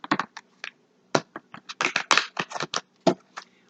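A deck of tarot cards is shuffled close by in a quick run of crisp, irregular riffling snaps and flicks, quiet overall with short gaps between bursts.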